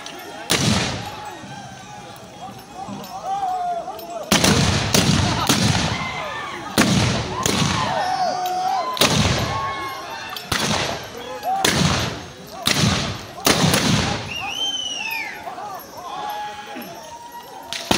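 Gunfire from a staged head-hunting tactics display at the Hornbill Festival, with sharp loud bangs in irregular bursts, some quick successions, over a crowd murmur and shouting voices.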